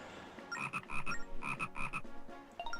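Frogs croak in The Legend of Zelda: Phantom Hourglass, a run of close, bright, rhythmic croaks in quick repeated bursts with short pauses and no talk over them.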